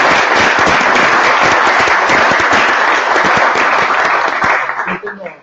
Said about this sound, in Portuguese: Peço uma salva de palmas para...